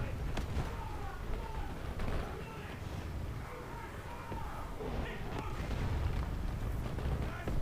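M47 Patton tank cannon firing in a World of Tanks-style video game: several sharp booming shots stand out against continuous low rumbling battle noise, loud and close, with no talking over it.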